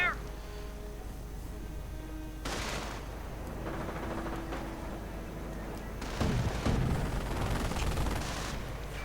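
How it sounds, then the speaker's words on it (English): Mortar and machine gun fire in a World War II strategy video game, a dense continuous rumble of distant explosions and rattling gunfire with sharper blasts toward the end. "Mortar rounds flying."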